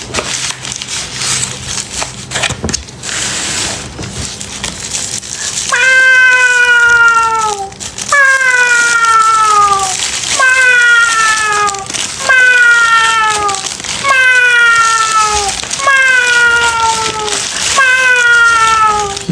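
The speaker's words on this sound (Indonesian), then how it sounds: "Ini makan Kucing." A cat meows repeatedly while being fed, a run of about seven loud, close, descending meows in steady rhythm after some quieter crunching and rustling at the start.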